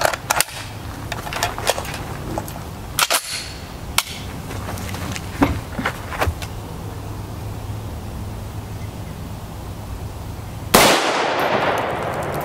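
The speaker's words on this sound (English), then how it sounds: "now we'll grab the three shots from the 308." Three .308 rifle shots strike a steel armor plate, sharp cracks with metallic clangs spaced a couple of seconds apart amid scattered smaller knocks, followed by a loud burst of broadband rushing noise near the end.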